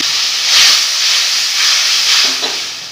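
Water poured into a hot pan of frying spices (Kashmiri chili, turmeric, coriander and cumin powders) sets off a loud, steady sizzle and hiss that swells and eases over a few seconds, with no voice over it.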